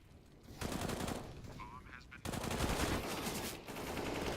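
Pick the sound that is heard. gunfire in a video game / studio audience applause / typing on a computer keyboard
gunfire in a video game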